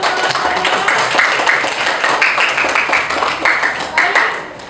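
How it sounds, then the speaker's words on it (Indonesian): A classroom group gives applause after a group presentation, a steady, dense clapping from many hands that lasts several seconds at a fairly loud, even level. "Kita berikan aplaus untuk kelompok"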